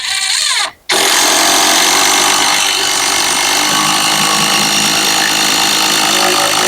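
A DeWalt 12V impact driver drives a screw into a knot in wood, giving a loud, steady mechanical whir with rapid hammering that runs nearly the whole time after a brief break near the start.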